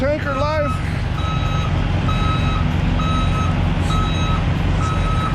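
A tanker truck's reversing alarm beeps in a steady, evenly spaced series over a constant engine rumble.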